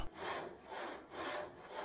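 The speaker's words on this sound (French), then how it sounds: "Faites de grands mouvements de manière à utiliser au maximum la longueur de la scie." A hand saw cuts through wood in a miter box with long, even back-and-forth strokes, a close, steady rasping that swells and dips with each of about four passes, no voices.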